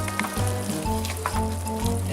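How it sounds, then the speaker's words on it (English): Tomatoes stirred into a pan of chili with browned meat, a soft bubbling sizzle with a few dull scraping strokes of the spoon close by, steady and fairly loud for about two seconds. "Stir them in."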